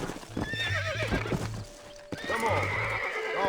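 In the Red Dead Redemption video game, a horse whinnies loudly in shaky, rising neighs while hooves clip-clop steadily beneath, with a brief pause before a second neigh and more hoofbeats.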